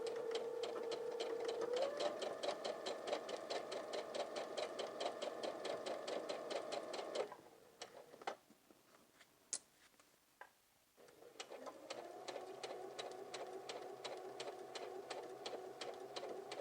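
A sewing machine stitches a fabric pleat in a rapid, even mechanical rattle, pauses for a few seconds of quiet handling clicks, then runs again at the same steady pace, close up.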